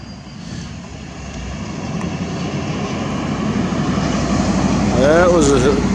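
A British Airways airliner passes overhead, its jet engines building into a broad, steady roar that grows louder toward the end, with a voice faintly heard under it.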